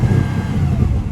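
A 2017 Audi S7 engine revs steadily and loudly up against its soft rev limiter, a dense, sustained engine roar holding at a capped pitch for about a second with no voices.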